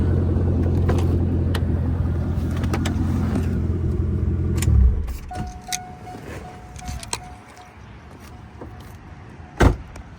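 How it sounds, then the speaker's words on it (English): A Chevrolet C5 Corvette, an automatic, idles with a deep steady rumble for about five seconds before the engine is switched off, leaving quiet cabin sounds, a faint electronic tone and a sharp click near the end. "Let me turn this car off."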